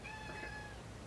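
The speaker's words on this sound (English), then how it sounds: "What do you want, Cat?" A cat gives a single thin, drawn-out meow, faint against a steady background hiss.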